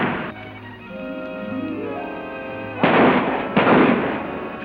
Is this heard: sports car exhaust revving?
no